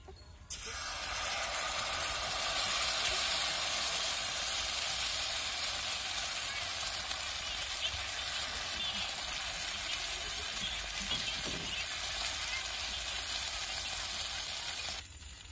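Bhagar and sabudana batter for dhirde frying on a hot griddle, giving a steady, loud hiss and sizzle that holds evenly for several seconds without talk.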